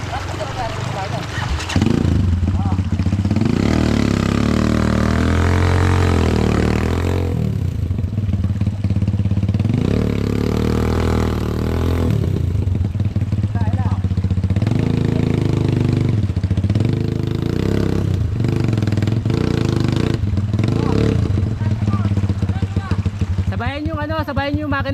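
A motorcycle engine runs steadily throughout a ride through coastal Aurora, close and loud with shifting revs as it accelerates and eases off, while riders talk intermittently over the engine and wind.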